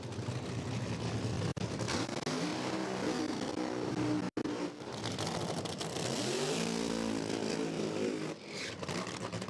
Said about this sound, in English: as these guys come up to do their burnouts